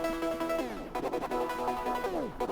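Opium-style trap beat with low frequencies cut by an EQ, leaving thin, bright synth tones that slide and pulse in short rhythmic stabs, fairly quiet and close.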